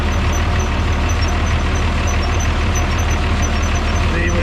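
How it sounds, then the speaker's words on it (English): A diesel engine of an International 706 tractor runs steadily at close range, a loud, even rumble throughout while the gears are shifted. "Okay, I got the 706 running now, let's see how nice it shifts."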